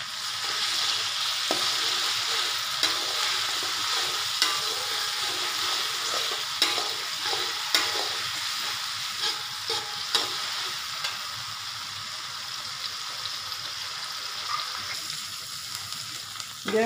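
Blended paste of bird's eye chili, shallot and garlic sizzles and fries in a pan, a steady loud crackle with occasional stirring scrapes and clicks, no voices.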